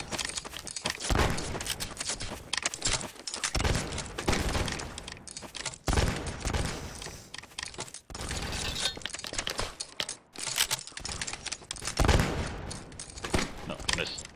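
Continuous gunfire from a generic rifle in Garry's Mod on a Civil War roleplay server, with dense repeated shots and cracks running throughout, loud and close over a busy game mix.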